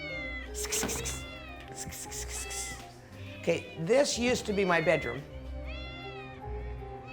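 Many cats meowing in a house overrun by a cat sanctuary, repeated close and overlapping cries, some drawn-out and wailing, while a person talks briefly between them.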